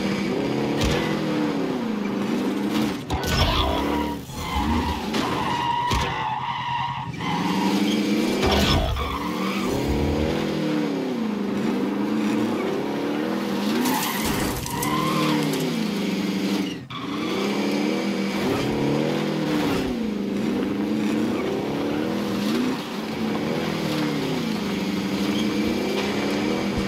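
Vehicle driving in the Call of Duty Warzone battle royale game, a loud, continuous engine drone that rises and falls in pitch with gear changes and revs, joined by occasional tire skids and bumps.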